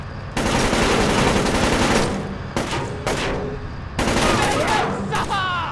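Loud, close automatic gunfire in the video game Splinter Cell Chaos Theory: long sustained bursts with short gaps between them, with shouting voices partly under the shooting.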